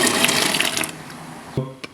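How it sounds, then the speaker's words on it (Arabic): Soaked, washed chickpeas tip into a pot of boiling water while making Levantine chickpea fatteh: a continuous bubbling, watery rush, then a sharp splash-thud of them landing near the end. "مغلت المي عنا، بدنا ننزل حمصاتنا."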